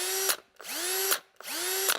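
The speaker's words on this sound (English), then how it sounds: "Let's tighten that up so we get the rattle." A cordless drill, a Milwaukee, runs in three close, loud bursts, each spinning up with a rising whine, holding a bright geared tone, then ending in a sharp clunk and rattle as it tightens.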